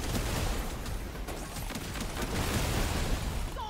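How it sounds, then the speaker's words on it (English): A dense, continuous barrage of explosions in the video game Deep Rock Galactic, crackling and rumbling without pause at a fairly low, even level. "Okay, a lot of explosions."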